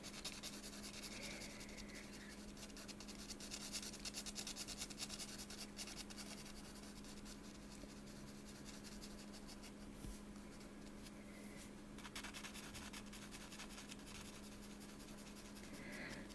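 Watercolor pencil lightly rubbing on paper while coloring, a soft, continuous scratchy stroking close by, faint and steady with small irregular strokes.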